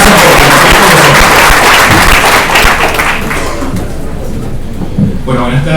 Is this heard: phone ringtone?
no